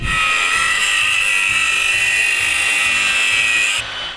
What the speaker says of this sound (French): il est en train de meuler le moyeu frère pour pouvoir mettre une jambe de 36